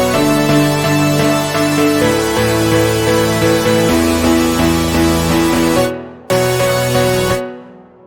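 Dense, bright chord synth patch built in the Vital synthesizer for a nostalgic progressive house drop, held chords ringing loudly, briefly cutting out near the end, then stopping.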